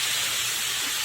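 Pork pieces sizzle in a hot pan with no oil added, giving off a loud, steady, dense hiss that continues without break, close to the pan.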